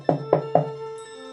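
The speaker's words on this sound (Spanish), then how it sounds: "Candice, gritó Terry, golpeando la puerta." Three firm knocks on a door in quick, evenly spaced succession, close and clear, followed by a lingering tonal hum as the sound fades.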